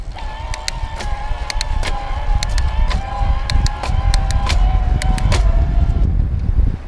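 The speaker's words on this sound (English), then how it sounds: "hear it whirring more as it's higher RPM on the motor" A Trek Conduit+ electric bike motor whirs steadily at high RPM under hard pedaling, with wind rush and repeated sharp ticks as gears are shifted, loud and close throughout.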